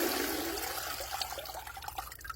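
Running water rinses a batch of homegrown potatoes, a steady broadband wash of splashing and trickling that holds at an even level throughout, with no voices.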